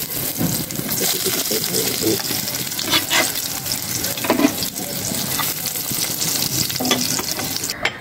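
Foli fish kofta balls fry in hot oil with a loud, close, bubbling sizzle, broken by scraping and turning sounds as they are flipped. A voice speaks intermittently over the frying.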